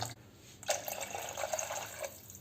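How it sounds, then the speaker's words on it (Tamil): Water poured from a cup into a pot of spiced crab soup, a steady splashing pour lasting a couple of seconds, close and alone. "இப்போ நம்ம வந்து ஒரு மூணு கப்பு தண்ணி விடுவோங்க"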